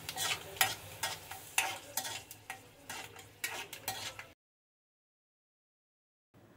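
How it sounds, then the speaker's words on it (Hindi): Dry fruits roast in desi ghee for doodhi halwa, a busy sizzle broken by repeated scraping stir strokes up close, then cutting off into silence before a faint return at the end. "घी डालने के बाद अपने फेवरेट ड्राई फ्रूट्स डालकर उसे रोस्ट कर लीजिए।"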